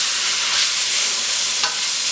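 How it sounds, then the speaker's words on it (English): Beef and broccoli stir frying in a pan on an electric stove, a steady bright sizzle and hiss holding evenly throughout with a brief stir near the end. "We're just going to stir fry this around"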